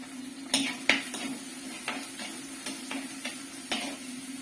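Curry leaves sizzle in hot oil for a sardine curry, a low crackle with scattered metallic spoon clinks and scrapes on the pan, close by and fairly quiet.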